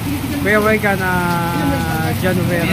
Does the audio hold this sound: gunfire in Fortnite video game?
no